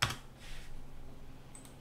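A single sharp click opens the clip, followed by a soft keyboard key press at a computer desk. Both are quiet and close, with no speech.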